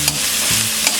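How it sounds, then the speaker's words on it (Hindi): Green peas frying over a medium flame with cashew nuts, a steady broadband sizzle with a couple of brief stirring scrapes, close and alone. "इसे हम मीडियम फ्लेम में 2 मिनट तक फ्राई करेंगे।"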